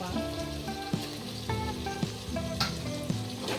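Curry leaves and ginger-garlic paste sizzle in hot oil while cooking Vajri masala, a close crackling fry with a few sharp pops, heard under a steady tonal musical background.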